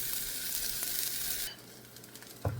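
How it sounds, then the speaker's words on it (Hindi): Beaten eggs, spread out for a cheese omelette, sizzle loudly in a hot pan over cooked masala, then settle to a softer frying hiss, with one brief clatter near the end. "मैं इसमें अंडे डालूँगी और अंडों को एक दफ़ा और बीट करके उसको मैं ऐसे फैला के डालूँ।"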